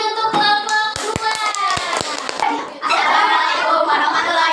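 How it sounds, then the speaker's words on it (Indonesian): A classroom of students applauds a presenting student group: a burst of close, scattered hand claps with children's voices and light laughter running over it. "tepuk tangan untuk kelompok 2"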